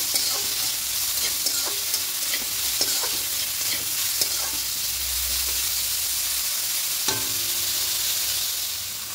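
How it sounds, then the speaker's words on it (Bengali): Salted carrots stirred and fried in a pan for vegetarian dalia pulao, a continuous close sizzle with intermittent scraping and clacking of a spatula against the pan, no voices. "এবার দিয়ে হালকা একটু নাড়াচাড়া করে ভেজে নেব"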